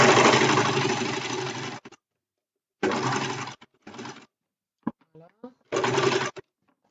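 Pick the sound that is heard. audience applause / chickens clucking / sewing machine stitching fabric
sewing machine stitching fabric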